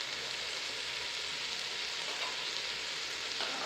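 Mint and coriander leaves fry in a pan for mushroom biryani, giving a soft, continuous, even sizzle with no break throughout.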